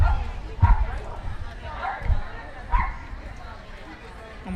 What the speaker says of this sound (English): Almost had a little dog fight back here. 3 dogs.